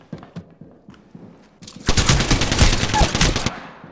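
Sustained bursts of SMG gunfire ring out in an Apex Legends match, with scattered footsteps and faint game sounds leading into loud, dense automatic fire that continues for about two seconds before stopping.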